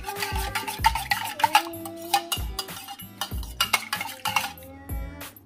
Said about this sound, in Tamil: பாருங்க, இப்படி தான் நல்லா மிக்ஸ் பண்ணுங்க.